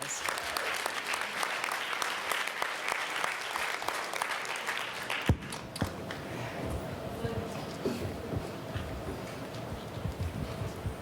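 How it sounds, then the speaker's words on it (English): Audience applause at a film screening and panel discussion at UNC-Chapel Hill, steady clapping for about five seconds that then cuts abruptly to quieter room sound with scattered claps and faint talk. "Round of applause."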